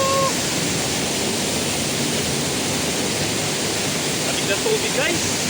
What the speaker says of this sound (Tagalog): Ito ng Cantina Waterfall.